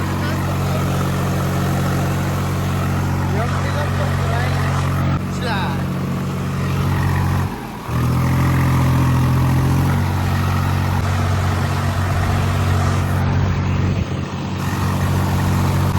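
A Star tractor engine rumbles steadily at close range, its low throbbing drone continuous throughout, with a brief dip midway and people talking over it.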